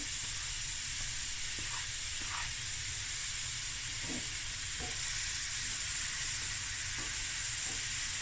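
Food sizzles steadily in hot oil on medium heat while tuna spaghetti ingredients cook, a continuous bright hiss with occasional soft stirring clicks and pops.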